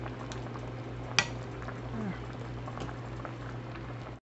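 Chicken stewing and simmering in gravy with added water, a steady low bubbling burble beneath a constant hum, with one sharp clink of a utensil or pot partway through.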